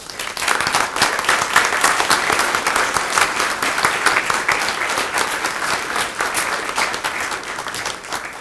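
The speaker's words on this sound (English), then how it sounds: "I'd just like to give them a round of applause" A room full of people applauds warmly at a town hall meeting, dense steady clapping that holds for several seconds before tapering slightly.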